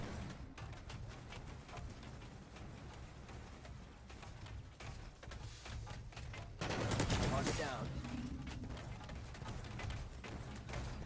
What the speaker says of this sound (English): It took 2 shots to take down that VS infiltrator running up to them.